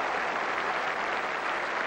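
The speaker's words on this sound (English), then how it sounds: "Huge applause here from the enormous Old Trafford crowd for Warren Hegg" A huge cricket crowd at Old Trafford applauds a batsman, heard as a steady, dense wash of distant clapping with no break.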